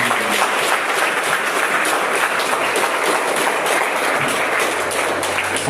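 A church congregation applauds, a dense, loud burst of many hands clapping continuously and close by throughout.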